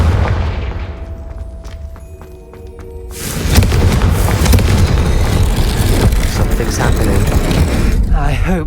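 Confringo fire spell from Hogwarts Legacy bursting into a loud, sustained fiery explosion after a quieter stretch of game sounds with a voice calling out.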